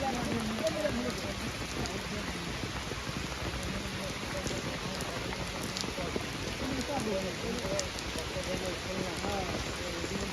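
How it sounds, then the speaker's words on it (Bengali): Heavy rain pours steadily beside an eroding riverside embankment at Shaharabari Ghat in Bogura, a dense continuous hiss that holds throughout, with faint voices mixed in underneath. "বর্তমানে প্রচুর পরিমাণে বৃষ্টি।"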